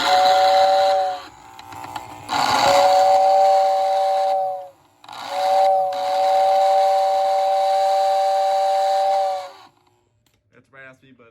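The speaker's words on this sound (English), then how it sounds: "here's going to be a operation of the whistle for the tender" A postwar O gauge model train tender sounding its raspy whistle: several long, steady hissing blasts with short gaps between them, close and loud, ending in quieter clicks.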